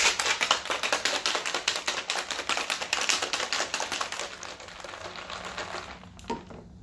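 Cranberry juice and ice rattle hard inside a cocktail shaker in a fast, steady rhythm of sharp clacks that ends abruptly, followed by a brief clink.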